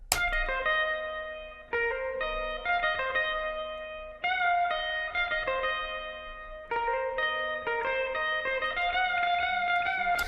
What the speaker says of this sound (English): we decided to have a little fun there and add some guitar